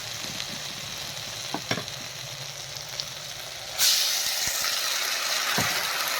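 Water hits a hot pan of frying turmeric, and the steady sizzle jumps into a loud, broad hiss partway through, with a few light clinks of stirring before it.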